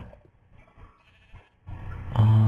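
Sheep in the Minecraft Tekkit modpack bleating, with game ambience building to a loud, close bleat near the end.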